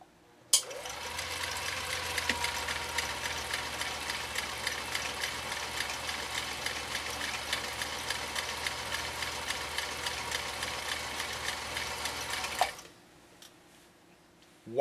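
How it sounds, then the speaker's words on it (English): A 1955 Viking Type 21 sewing machine runs a zigzag stitch through six layers of commercial-grade canvas, a steady fast whirring and ticking that starts abruptly, holds evenly for about twelve seconds, then stops. "We're going to be sewing a zigzag down 6 layers of commercial grade canvas."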